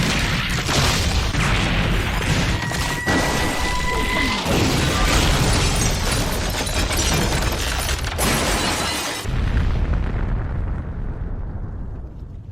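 A long, loud, continuous roar of crashing, shattering debris and explosive booms as a diner is destroyed in the animated series Kid Cosmic, sustained for about nine seconds before tailing off.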